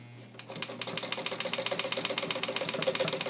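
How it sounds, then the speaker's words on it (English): A vintage all-metal Necchi BU Mira sewing machine, made in Italy and fully restored, stitching through heavy fabric with a 16 needle, starting up and settling into a fast, even mechanical clatter, close and alone. "That's more the speed that I really like when I'm sewing through heavy stuff."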